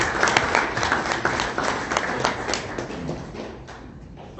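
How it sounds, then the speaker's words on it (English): Audience at an IT consultancy presentation giving a round of applause for a speaker, many hands clapping steadily and fairly loud, slowly thinning and fading toward the end. "So let's give Earl a big round of applause."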